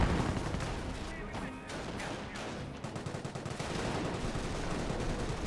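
Heavy, sustained gunfire from a Company of Heroes battle, overlapping machine-gun rattles and shots crackling steadily throughout at close, loud range with no pause.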